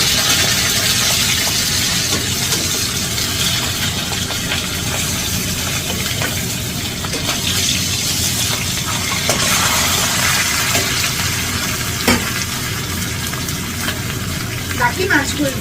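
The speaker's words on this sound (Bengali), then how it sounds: "বাকি মাথাগুলো ভেজে নেব।" Fish heads from katla fish frying in plenty of oil, a loud continuous hiss and crackle that fills the whole stretch, with a few sharp pops near the end.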